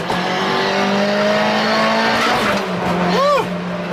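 Subaru WRX STi engine droning steadily at low speed, then a clutch kick brings a brief rising rev and a short tire chirp near the end, with people talking over the car.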